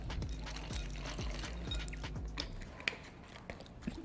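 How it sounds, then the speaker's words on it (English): Infused oil is poured over a close, quiet bowl of mixed walnuts, peanuts and cashews, giving a soft trickle with light clicks and rattles of nuts. "taking this infused oil, kind of just pouring all over the nuts there"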